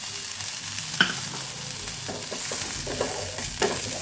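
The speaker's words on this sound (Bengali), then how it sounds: "এর মধ্যে আমি দিয়ে দিচ্ছি এই ধনে পাতাটুকু একটু হালকা করে ভেজে নেব।" Coriander leaves lightly frying on a hot tawa, giving a steady soft sizzle broken by a few sharp stirring scrapes and clinks, with no voices.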